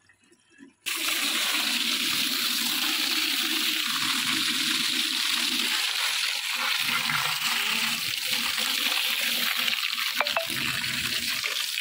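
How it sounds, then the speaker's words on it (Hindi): A blanket being hand washed in water, with steady sloshing and splashing that runs continuously and fairly loud, starting after a brief quiet moment and carrying on with no talk. "आज हम सोच रहे ब्लैंकेट एक धो ही लेते हैं"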